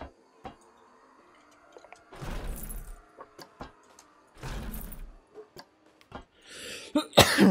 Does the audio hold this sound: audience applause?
no